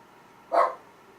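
A single sharp bark from a dog somewhere indoors, brief and moderately loud against a quiet background.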